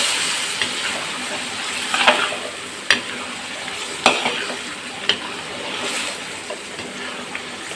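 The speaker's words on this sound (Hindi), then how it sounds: "अब हम इसमें चिकन शामिल करेंगे जो हमने फ्राई करके रख दिया था। ऐसे अच्छी तरह से मिक्स कर दें।" Fried chicken is stirred into sizzling masala in a pan for a creamy Pakistani chicken dish, a steady sizzle under occasional sharp spatula scrapes and knocks, close and moderately loud, no talking.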